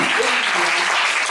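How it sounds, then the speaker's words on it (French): A church congregation applauding during a sermon, a brief, loud, dense burst of clapping from many hands throughout, with faint voices underneath. "Applaudis fort."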